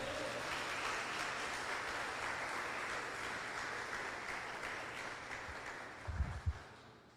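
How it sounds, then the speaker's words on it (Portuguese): A church congregation applauds during a service, a soft, steady wash of clapping that goes on for several seconds, with a few louder thumps near the end. "Você pode aplaudir isso aqui,"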